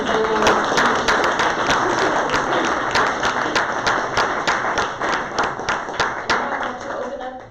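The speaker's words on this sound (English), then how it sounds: "So I would like to have a round of applause to all our great speakers." A conference audience applauds its speakers, and the clapping starts dense and then thins into distinct individual claps toward the end. Voices can be heard faintly under the clapping.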